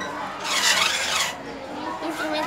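Breathy, airy blowing notes from a homemade panpipe built from recycled materials, a couple of short hissy tones played close up with faint background chatter.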